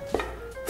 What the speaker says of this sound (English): We are chopping some thyme and some sage.